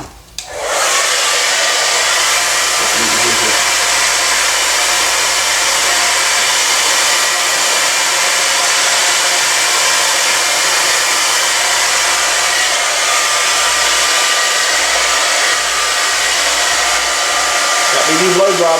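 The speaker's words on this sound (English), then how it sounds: "Got me new blow dryer" A new, short-corded blow dryer runs steadily while drying hair after a haircut, a loud continuous whoosh with a constant tone that persists almost unbroken from start to finish, with no talk.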